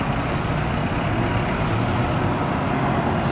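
Near a bus station, a truck rumbles past with a steady, loud low engine drone and road noise that holds throughout.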